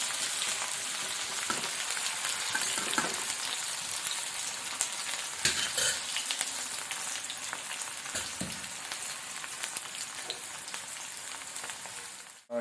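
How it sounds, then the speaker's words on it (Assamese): Onion and chillies fry in hot oil for a Mising-style pork dish, giving a steady, fairly faint crackling sizzle throughout with occasional soft stirring scrapes and no talking. "এইটো ভালকে ভাজি লম"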